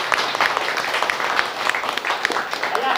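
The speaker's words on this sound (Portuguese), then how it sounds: "Aí eu quero pedir uma salva de palmas para todos." A community audience applauding together at a thank-you gathering, steady dense clapping that fills the moment without pause, fairly close and moderately loud.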